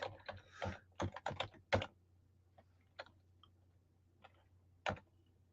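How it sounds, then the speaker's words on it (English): Typing on a computer keyboard, close and fairly quiet: a quick burst of clustered keystrokes at first, then sparser single taps spread out with short gaps, alone without talk. "Excuse the keyboard for 1 second."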